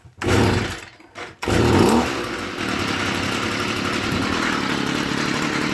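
Stihl FS38 string trimmer starting after sitting all winter in an unheated shop: a couple of short pull-start bursts, then the small two-stroke engine catches and runs steadily at a buzzing, close idle.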